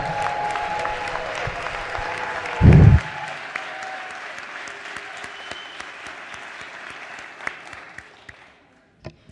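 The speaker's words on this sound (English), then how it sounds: "let's give Morgan Streeter a round of applause for the work he does for us" A round of applause fills the House floor during a legislative session, a sustained wash of clapping from many members that slowly thins and fades out, with a brief low thump early on.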